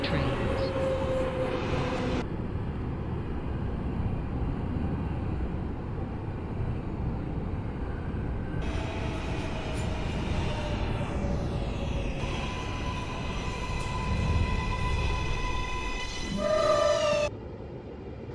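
Kawasaki R143 subway train in the OpenBVE simulator running a Brown M line toward Coney Island, with a continuous rumbling roll of wheels and motors throughout, shifting whining motor tones, and a brief louder surge near the end.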